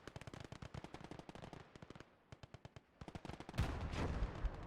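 Rapid bursts of automatic gunfire from a World War II real-time strategy battle in Gates of Hell: Ostfront, with a Panzer IV and infantry fighting, crackling in dense rhythmic volleys, a short lull, then a heavier explosive rumble at the end.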